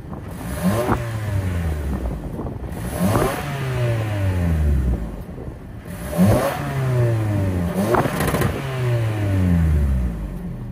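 A Lexus 2.5-liter inline four-cylinder engine from a 2024 Lexus ES 250 AWD revs up repeatedly, about five times, each rise followed by a falling drone, loud and close with no talking.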